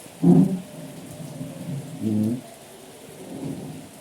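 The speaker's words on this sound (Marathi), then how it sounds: "दुपारचे दोन वाजले तरी बघा पाऊस" Steady heavy monsoon rain in the Konkan region with deep rumbles of thunder rolling in at intervals, fairly loud and close.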